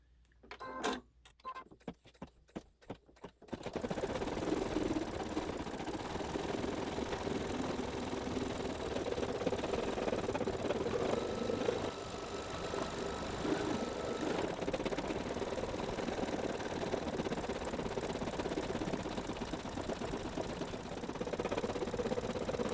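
A SweetPea embroidery sewing machine runs a dense satin edge around a Santa's Workshop quilt block. A few start-up stitches give way to a loud, continuous, fast mechanical whir that holds steady to the end.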